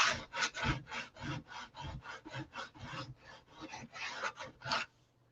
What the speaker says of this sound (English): I'm going to get something and brush off all this excess.